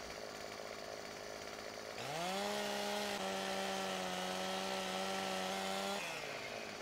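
A chainsaw in the Farming Simulator 17 video game revs up and holds a steady, loud droning whine while cutting logs among hedges, then drops back to idle at the end.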